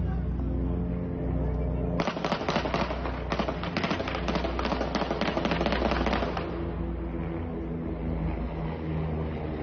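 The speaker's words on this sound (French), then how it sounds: "3 individus cagoulés ont ouvert le feu à la Kalachnikov" A burst of rapid Kalashnikov gunfire during a shooting at a Subway in Rennes, a dense run of sharp cracks lasting several seconds over a steady low background, then stopping abruptly.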